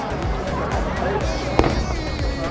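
Fireworks at the PL fireworks festival in Japan pop and crackle at a distance amid a busy outdoor hubbub of crowd chatter, with one sharper burst standing out near the end.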